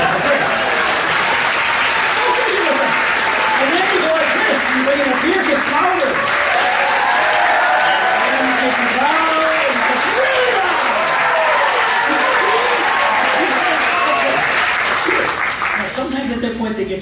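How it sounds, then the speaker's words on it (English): An audience at a magic theater show claps loudly and steadily throughout, a dense continuous applause with crowd cheers rising within it, no talk on top. "They start to clap."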